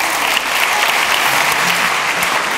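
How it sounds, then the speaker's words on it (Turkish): Hand clapping from a studio audience on a comedy show, loud, dense and continuous applause from many people throughout. "Bu normal alkış."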